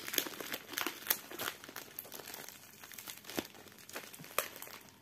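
A cardboard parcel box sealed with tape is pulled open along its sides, giving close, irregular crinkling and tearing with sharp crackles and no talk.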